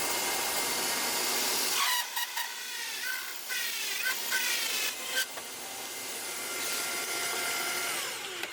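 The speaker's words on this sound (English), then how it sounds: "So I've got a 2-inch hole saw in my drill press, and we're going to use it to punch a bunch of holes in this piece of wood" A 2-inch hole saw with a 1/4-inch pilot bit, chucked in a drill press, cuts into a piece of wood: a steady high whine and grinding rasp with brief pauses and bursts as the teeth bite.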